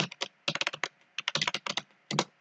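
Fingers type an SQL update statement on a computer keyboard, producing quick bursts of crisp, close key clicks separated by short pauses.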